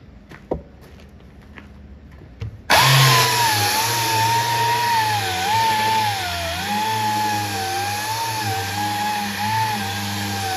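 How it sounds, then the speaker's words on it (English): Power sander working Bondo filler on an arcade cabinet: after a quiet start with a few taps, a loud steady motor whir kicks in and runs continuously with slight wavering pitch, close up, no talk. "let's get this sanded down."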